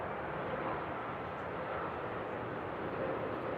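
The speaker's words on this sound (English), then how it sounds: "A330 from Heathrow." A Virgin Atlantic Airbus A330 airliner arriving from Heathrow at Seattle airport gives a steady, fairly faint broadband jet roar that holds evenly for a few seconds, with no talking.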